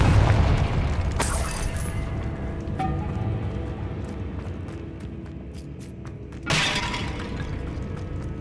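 In Hogwarts Legacy, a Confringo blasting spell bursts with a sharp shattering crack, then a second blast follows a few seconds later. Debris rains down and rumbles faintly in a cavernous chamber between the explosions.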